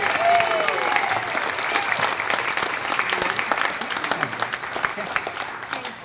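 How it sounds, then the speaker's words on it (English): Audience at the Carpinteria community awards banquet applauding, a loud, dense burst of clapping from a full room that carries on for about six seconds, with some voices and cheers mixed in. "another round of applause for them"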